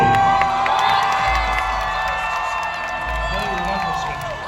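A theme park villains show audience cheers and shouts, with children's voices and whoops forming a loud, sustained crowd roar close by, mixed with a performer's amplified voice.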